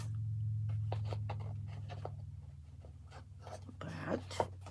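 Paper being trimmed for a handmade craft page, heard as a string of short crisp scraping and snipping strokes at close range over a steady low hum, ending with a louder rustle.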